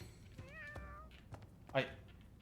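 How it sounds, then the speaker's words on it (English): Two short cat meows from the Fire Emblem Three Houses video game, fairly quiet, the first a drawn-out mew and the second a brief higher cry, with a voice speaking around them. "Kitties!"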